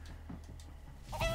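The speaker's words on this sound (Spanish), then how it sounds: "pero no, ha salido un pato." A brief bird call, which the player takes for a duck, sounds in Minecraft Story Mode. It is a short clucking squawk near the end of a quiet stretch, with no talk.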